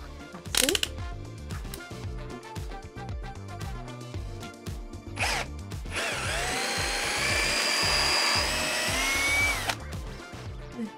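A power drill bores through scrap wood while a shoe rack is being built, with repeated short revving bursts and then a longer sustained whining run through the timber, close and loud.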